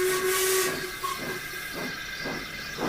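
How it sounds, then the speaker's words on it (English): An orange steam engine's whistle sounds, a sustained tone with hissing steam, then several short puffing steam bursts in a steady rhythm. "Gordon was interrupted by the sound of a certain orange engine's whistle"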